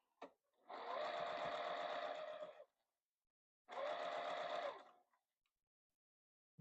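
A sewing machine stitches fabric scraps for a hand warmer in two loud, rapid bursts of mechanical whirring, each lasting about two seconds and separated by a short silence, close to the listener with no talk.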